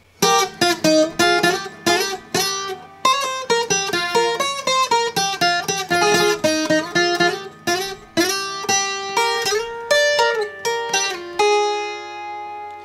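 Requinto guitar playing a slow riff from the start of a song: clear plucked notes in a steady, unhurried melodic line, close and loud, with no talking, ringing out on a final sustained note.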